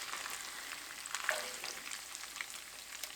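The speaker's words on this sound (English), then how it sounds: "this is what it looks like when you fry up the canned bacon" Canned bacon crackles and sizzles in a frying pan, a soft, continuous spatter with a few brighter pops, fairly quiet and heard alone.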